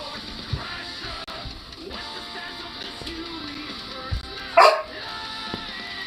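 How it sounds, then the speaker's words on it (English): A single sharp dog bark rings out close by near the end, set over a low, quiet room background with faint scattered noises and no talking. "What is with this dog?"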